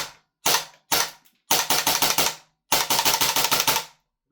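WellPro PPK-20 gas blowback airsoft rifle firing semi-auto: sharp, loud cracking reports, two single shots followed by two quick bursts of rapid back-to-back shots, close up with no speech.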